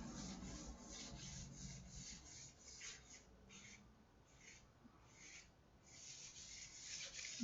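Fine-grit sandpaper rubs across varnish on a guitar body in quiet, steady back-and-forth strokes, soft and close with a few pauses between passes.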